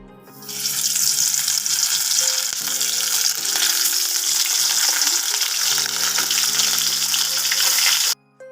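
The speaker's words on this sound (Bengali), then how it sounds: "এখন ঝালের জন্য মাছটা ভেজে নিয়ে" Fish frying in hot oil for a spicy curry, a loud, steady, close sizzle that runs unbroken for several seconds before stopping abruptly, with faint background tones beneath.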